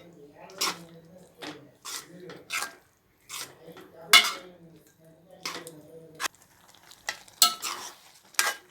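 Papaya kootu being stirred in a pan: intermittent scraping and squelching strokes of a spoon, close and fairly quiet, spaced out between stretches of someone talking.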